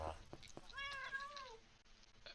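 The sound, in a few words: cat meowing in the video game Minecraft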